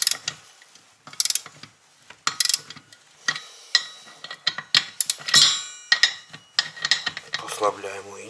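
A socket wrench works on the clutch of a Foresta FC-45 brushcutter, giving rapid bursts of close ratcheting clicks and metallic rattles in uneven spurts, ending with a brief whining tone.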